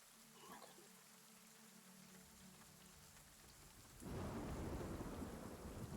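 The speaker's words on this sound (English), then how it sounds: "all go to bed as the sounds of rain lull you to sleep" Rain and thunder in a storm sound effect: a low thunder rumble under steady light rain, then a sudden switch to heavier pouring rain that continues to the end.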